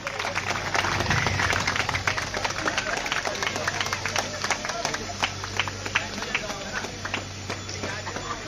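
An audience claps at a ground-breaking and foundation-stone ceremony in Ganeshpura, Nawalgarh. Continuous crowd applause with dense clapping runs throughout, and a person talks over it.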